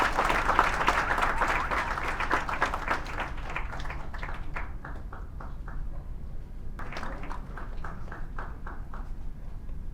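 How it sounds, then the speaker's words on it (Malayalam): An audience at a film press meet for the Devadoothan re-release breaks into sustained applause, a dense, even wash of many hands clapping that thins slightly midway and then swells again, with no voices over it. "ഓഡിയൻസ് നല്ലൊരു കൈയടി കൊടുക്കാം."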